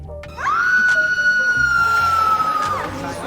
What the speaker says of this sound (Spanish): Al parecer nadie escuchó el grito.